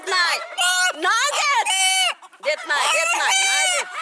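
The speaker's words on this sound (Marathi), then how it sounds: "हा कोंबडा चक्क अण्णा अण्णा अशी हाक मारू लागला" A pet rooster calls loudly and close in repeated harmonic cries, two-syllable shapes that sound almost like a spoken name, with a short pause in the middle.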